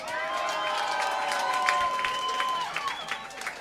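Audience at a live club concert applauding and cheering steadily, a dense wash of clapping with crowd noise and some voices mixed in throughout.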